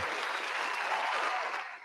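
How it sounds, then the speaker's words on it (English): A crowd applauds in a brief, steady burst of clapping heard at moderate distance, tapering off at the end. "The crowd is applauding"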